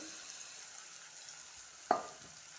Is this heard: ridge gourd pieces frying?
yes